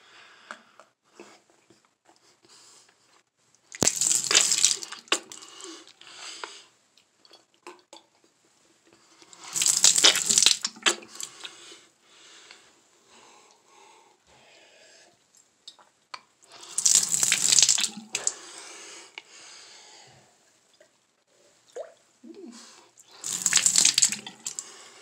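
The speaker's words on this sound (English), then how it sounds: "I spit the toothpaste in the sink and I rinsed it out with water." At a bathroom sink, someone spits out toothpaste and rinses with water, four separate bursts of splashing, spitting and running water several seconds apart, with quiet pauses between them.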